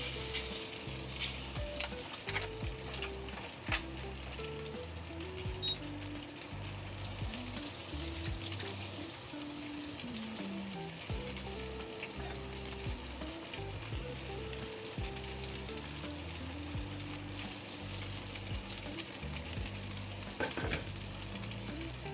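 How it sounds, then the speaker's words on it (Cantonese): Rice noodle rolls fry over medium heat in a wok, giving a steady close sizzle with scraping stir strokes in a repeating rhythm, no voices. "我哋可以用返同一隻鑊開始煎腸粉。"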